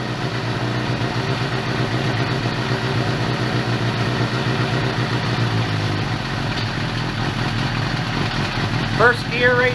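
Freshly rebuilt 2007 Suzuki GSX-R 750 motorcycle engine idling steadily and close by for the whole stretch, an even rumble with light clatter, and a voice briefly exclaiming near the end.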